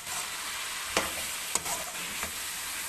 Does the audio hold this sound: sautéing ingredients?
yes